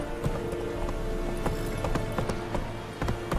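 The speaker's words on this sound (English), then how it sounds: "Run, Roach" A horse gallops in The Witcher 3: Wild Hunt with a rapid, steady clatter of hooves, moderately loud over a constant background bed, with no voices.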